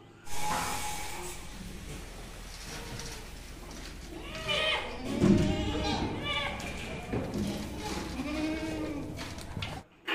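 Goats and bucks bleat repeatedly on a goat farm during feeding time, several calls overlapping at close range under steady background noise and someone talking.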